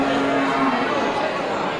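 A crowded livestock market packed with sheep, rams and breeding goats during the month of Maulid gives a continuous din of animals, with a drawn-out bleat near the start over a steady crowd murmur.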